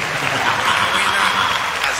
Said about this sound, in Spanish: un aplauso primero que todo de recibimiento a Dan Mahosi por ahí